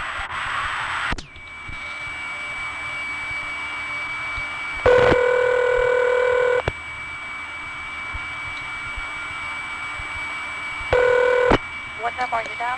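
Dialing and line tones on a 1973 Belle Harbor crossbar telephone line: steady tones with short bursts of multi-tone dialing, and a voice speaking in the background.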